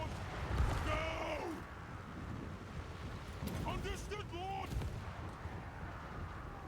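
Bombs explode in a Total War: Warhammer battle, with low rumbling blasts and rolling battlefield noise under whistling game sounds and wind-like hiss, several dull booms spread across the stretch.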